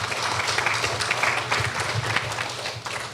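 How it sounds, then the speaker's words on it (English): Audience applause at a gathering, dense steady clapping from many hands filling the space, fairly close and continuous with no talk over it. "I know Ugo and Cynthia appreciate the applause"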